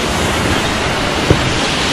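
A small waterfall rushes steadily in a wooded glen in Scotland, with a continuous broadband wash of falling water and no voices present.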